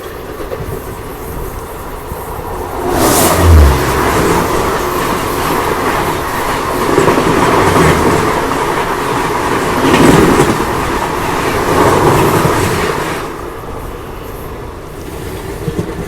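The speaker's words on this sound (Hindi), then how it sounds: "यस, तो ये अरावली एक्सप्रेस ही आ रही है।" The Aravali Express passes a railway crossing with a loud, steady rumble and rhythmic clickety-clack of wheels on rails, swelling as the coaches go by and fading toward the end.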